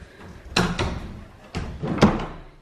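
A door opens and shuts with a couple of sharp knocks and thuds, close by, in a quiet room.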